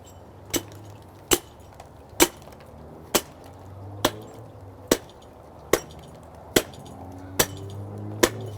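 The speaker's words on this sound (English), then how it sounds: "I typically use a hatchet" A hatchet chops through deer ribs while a front shoulder and neck are butchered, giving about ten sharp, evenly spaced strikes roughly one second apart, each a crisp, close woody crack over a low steady background hum.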